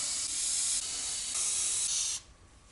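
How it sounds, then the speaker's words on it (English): Penetrating oil hisses steadily from a spray can onto rusty fender liner bolts on a Mazda MX-5 NA Miata, a close, continuous spray in several short bursts that stops abruptly near the end. "They can be pretty rusty, so use some penetrating oil to break them loose."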